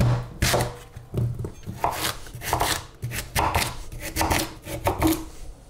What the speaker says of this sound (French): On va couper la patate douce en gros cubes.